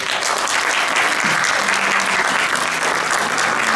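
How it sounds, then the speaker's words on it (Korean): Sustained, loud applause fills the hall after a presentation at the 2021 Global ESG Metacity Summit, thick continuous clapping that holds steady from start to finish. "발표를 준비해주신 유니티 코리아 김인숙 대표님께 다시 한번 큰 박수 부탁드립니다"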